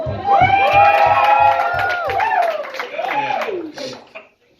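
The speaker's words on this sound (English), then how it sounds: "Clap, cheer, make some noise if you live in or are from Texas" Audience clapping and cheering at a live comedy show, rhythmic claps at first under loud whoops and shouts from the crowd, tapering off into quieter cheers.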